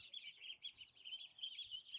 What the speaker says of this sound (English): These are the 3 roosters